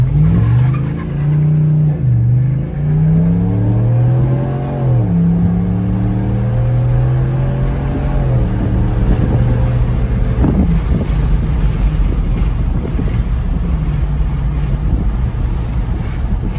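A 2024 Ram 1500 pickup with a B2 Fabrication resonator delete roars hard from a standstill, pitch climbing through several gear shifts, loud and close with wind buffeting the microphone.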